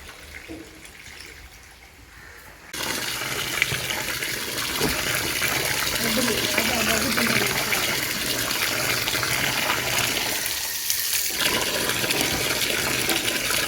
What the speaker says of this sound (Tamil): ஒரு சட்டி எடுத்தால் வாழைக்கண்டுக்காது ஊற்றலாம் தண்ணியை